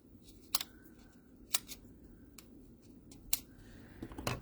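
Scissors cut through paper pieces for a handmade greeting card, with about four crisp, separate snips spaced roughly a second apart over a quiet background.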